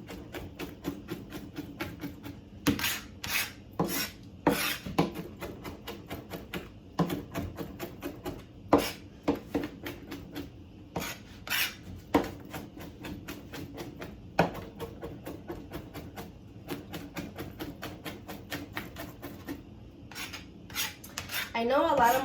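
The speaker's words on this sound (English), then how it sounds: "So you just want to finely chop them." A knife chops ingredients finely on a board, a fast run of sharp close taps in an uneven rhythm with brief pauses and scraping, no talking.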